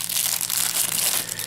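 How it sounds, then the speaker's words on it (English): A plastic protective bag around a Radioddity GA-2S radio crinkles loudly and steadily at close range as the radio is unpacked, with no talk. "So the radio comes packed with the protection of a plastic bag,"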